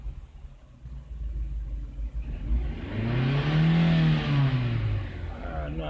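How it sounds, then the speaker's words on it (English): A 2002 Nissan X-Trail with a low-power fault is revved once. Its engine note swells from a low idle rumble into a moderate, rising-then-falling rev before settling back. "No, I think I'm overdoing the revving."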